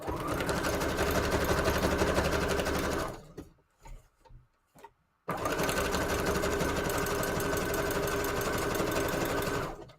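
A sewing machine runs a number 4 stitch on default settings, a loud, fast, even mechanical whir that stops for about two seconds with a few short clicks, then resumes steadily.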